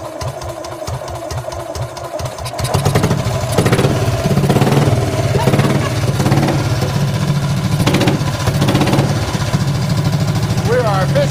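A BMW Isetta barn-find engine, rigged to run, sputters and then revs up into a steady loud drone with rising surges, heard up close while people talk over it.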